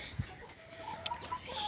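Chickens cluck in a small farm chicken structure, giving soft, scattered clucks and short calls at close range over faint background noise.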